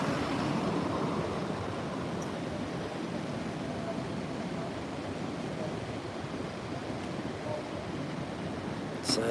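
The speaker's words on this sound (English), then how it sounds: "Nice wave coming through just there" Ocean waves breaking at the Gold Coast near Surfers Paradise, a continuous broad roar of surf with steady wash and faint wind, no distinct individual crashes.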